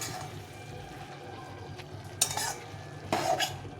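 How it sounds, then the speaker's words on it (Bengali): Small fish curry gets stirred in a pan, with a quiet simmering background broken by two distinct scraping strokes of a spatula against the pan near the end. "মাছটাকে এখন একটু নেড়ে চেড়ে দিতে হবে ভালো করে"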